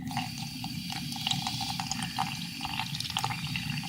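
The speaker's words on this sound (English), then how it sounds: "I'm going to put some flour and water in here." Water pours into a bowl of flour in a home kitchen, a steady close trickling and splashing fill lasting a few seconds with small drip-like spikes, no voices over it.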